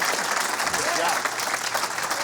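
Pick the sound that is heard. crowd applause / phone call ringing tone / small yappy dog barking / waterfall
crowd applause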